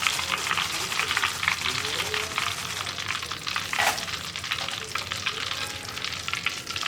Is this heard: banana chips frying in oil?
yes